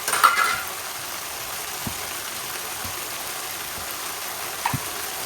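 Peanut, coconut and ginger-garlic paste being sautéed in a pan, giving a steady soft sizzle and hiss with a couple of faint utensil taps and a brief scrape near the start.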